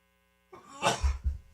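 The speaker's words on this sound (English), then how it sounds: "Excuse me, I had to sneeze." A single person's sneeze or throat burst in a studio setting, close and fairly loud, a short sharp rush followed by two low thumps, over faint steady mains hum.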